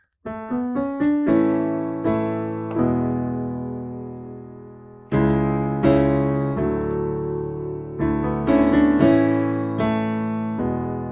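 Piano chords ring out one after another, opening with a quick rolled run, then sustained chords changing every second or so, each decaying before the next; the progression starts on the 1 chord.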